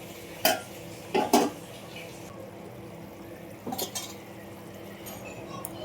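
Fish pieces dropped into boiling fish curry in a pot, a few distinct utensil clanks and splashes standing out over a low simmering background.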